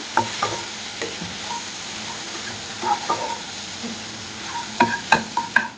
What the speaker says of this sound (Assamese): আদা নহৰু আৰু পিঁয়াজখিনি অকণমান সময় এনেকৈ ইয়াত ভাজি ল'ম